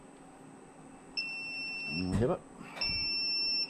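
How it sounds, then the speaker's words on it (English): A controller fault alarm tied to an oil cooler error beeps in steady electronic tones, starting around a second in, pausing briefly, then resuming loudly, with a person speaking over it. "once the controller fires up, it'll give you an error and an alarm"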